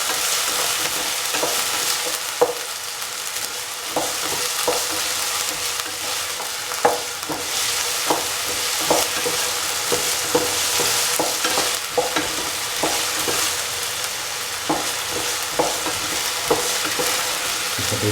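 Small cubes of potato fry in a pan, giving a continuous bright sizzle broken by frequent scraping clicks as they are stirred, close and steady throughout.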